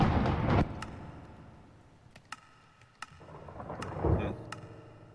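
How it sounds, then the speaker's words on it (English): A deep rumble of thunder in the modded Minecraft pack RLcraft, a heavy low roll that fades and then swells again, with a few sharp faint clicks scattered over it and no voices. "Weather off, I still hear a massive thunder."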